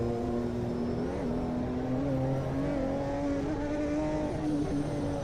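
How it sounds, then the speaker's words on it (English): Aston Martin GT1 race car engine in the Automobilista 2 sim racing game, a steady droning, buzzy engine tone held at near-constant revs with only small pitch wobbles, loud and unbroken with no voices. "What's with the sound of the Aston?"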